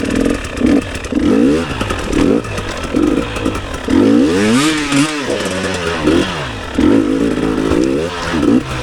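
Motorcycles on a rally trail rev repeatedly, their engines rising and falling in pitch in a series of close, loud throttle bursts with rattling clatter.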